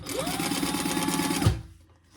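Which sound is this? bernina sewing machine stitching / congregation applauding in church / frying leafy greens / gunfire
bernina sewing machine stitching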